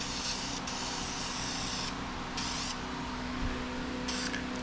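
Paint spraying onto a car alternator mounting piece during a Charger 318 rebuild: a steady, close hiss of spray with brief pauses between bursts, over a constant background hum, with no talking.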